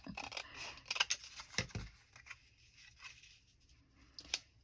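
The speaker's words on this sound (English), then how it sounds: "Just cut the pretty part right off." Scissors snip through craft paper scraps in short, quiet crisp cuts, clustered at the start and then scattered, close and alone in a hushed room.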